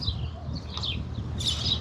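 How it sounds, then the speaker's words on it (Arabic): Brief high chirps from birds by the sea over a steady low background rumble, fairly faint and scattered across a couple of seconds. "بس في طيور، في حياة، في أصوات داخل"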